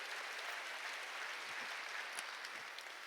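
A church congregation applauds during a sermon, giving steady, even clapping that sounds somewhat distant and fairly faint throughout.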